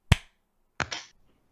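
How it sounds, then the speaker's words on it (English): A sync clap of hands for a recording: two sharp, close claps about seven tenths of a second apart, the second with a quick bouncing double strike, each alone in a quiet room. "let's do a little sync clap"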